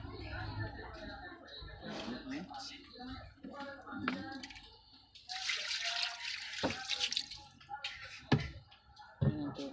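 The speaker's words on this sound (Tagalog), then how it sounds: "Tubig yan eh." Water runs and splashes into a bucket in uneven bursts, with a stronger gush midway, while voices talk nearby and occasional knocks sound.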